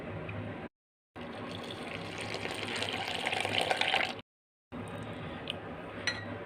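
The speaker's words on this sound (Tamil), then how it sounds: "இப்போ இதுக்கு அளவாக கொஞ்சமாக உப்பு போட்டு தண்ணி ஊற்றி கலக்கிடலாம்" Water being poured into moringa leaf powder with salt and stirred into a batter, a steady close trickling and splashing with two short dropouts, no talk.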